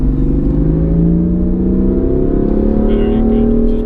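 A car accelerating hard on a driving track, its engine note rising steadily and loud throughout, with a track instructor's voice mixed in under the engine.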